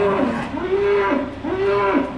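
Farm cows moo nearby, two long, loud, low calls in quick succession, each swelling and falling away, with no talk over them.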